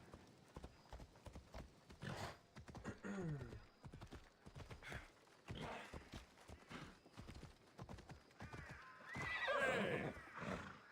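Horse in a video game galloping with rhythmic clip-clop hoofbeats and neighing in short whinnies, punctuated by a louder whinny near the end, while people talk casually over it.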